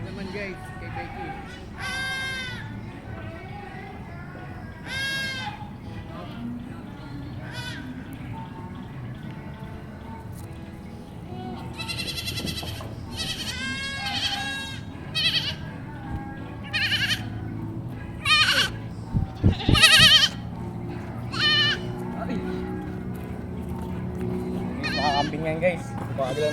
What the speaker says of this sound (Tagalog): Sila guys, ang mga batang kambing.